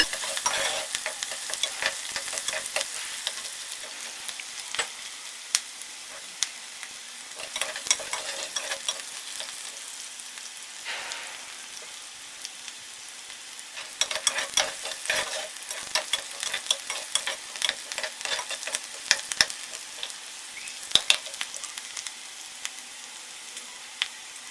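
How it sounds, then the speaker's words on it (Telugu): Onions frying until golden in a pan with a continuous sizzle, broken by frequent sharp scraping clicks as a spoon stirs them. The sound is close and stays fairly even throughout, with no talking. "ఆనియన్స్ని గోల్డెన్ కలర్ వచ్చే వరకు వేయించుకోవాలి."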